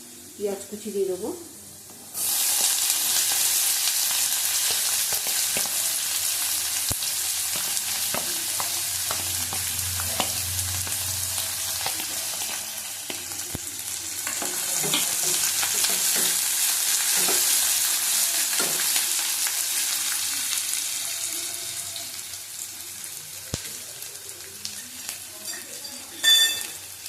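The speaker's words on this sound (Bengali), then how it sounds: "পেঁয়াজ কুচি দিয়ে দেবো।" Chopped onions go into hot oil in a pan with fried potatoes for an egg chicken tarka, bursting into a loud, dense sizzle that holds steady with scattered stirring scrapes and taps, and the noise swells again later on.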